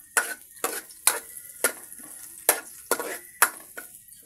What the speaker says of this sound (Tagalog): gisa-gisa natin yung ating sibuyas